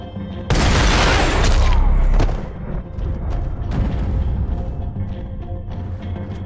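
A video game firefight in which a loud, close explosion is followed by sustained rumbling booms and rattling gunfire that carry on at a steady, heavy level.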